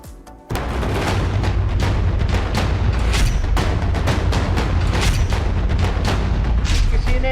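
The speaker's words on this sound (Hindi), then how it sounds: "दनादन गोलियां चलनी शुरू हो गई" Rapid gunfire bursts out after a short pause on a street in Greater Noida, India, a dense, continuous series of loud booming shots with no letup.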